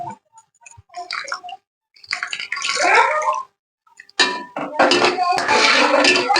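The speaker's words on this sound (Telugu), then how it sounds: "తర్వాత తగినంత నీళ్ళు పోసుకుంటుంది" Water is poured into a pan of meal maker (soya chunk) curry, splashing and hissing loudly in two bursts, with scraping of a utensil against the pan in between.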